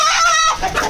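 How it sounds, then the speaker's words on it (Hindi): A rooster gives a short, raspy call at close range, brief and loud over a noisy background. "ये मुर्गा है।"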